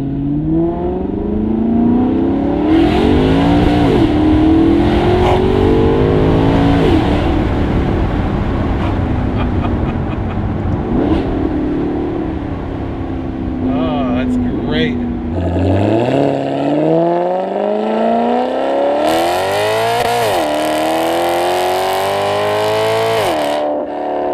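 Maserati GranTurismo MC engine pulling hard and revving through the gears, loud and close throughout, with pitch sweeping up and dropping at shifts while a driver talks over it.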